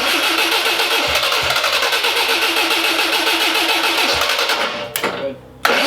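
An old Volkswagen Beetle engine, run with the choke on after long storage, cranks and catches into a rough, steady loud running note, then cuts out abruptly near the end.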